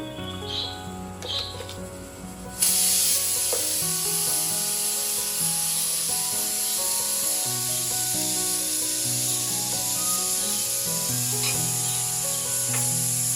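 Water poured steadily into rice for pulav in a cooking pot, a continuous rushing, hissing pour that starts abruptly and runs loud and close for over ten seconds alone.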